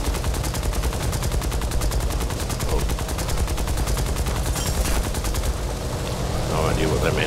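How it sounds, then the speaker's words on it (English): Rapid gunfire and artillery rumble from a War Thunder battle, a dense continuous volley of cracking shots close by for the whole stretch, easing slightly near the end. "there's firing going on around me"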